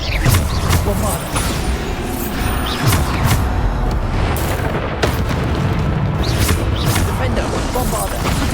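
Bombarda spell explosions in Hogwarts Legacy during a combat trial, a string of sharp booming blasts every second or so, loud against continuous battle noise, while a voice keeps calling out spells.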